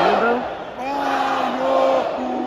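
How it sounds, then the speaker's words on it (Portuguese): Coritiba (Coxa) supporters keep chanting inside the stadium on a Sunday night after the Athletiba derby, a broad, sustained crowd song with sliding sung tones, steady and fairly loud, filling the whole stretch. "Por aqui, ó, a torcida do Coxa cantando ainda."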